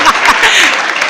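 Audience applause at a live Hindi stand-up comedy show, a loud burst of dense clapping filling the whole short moment.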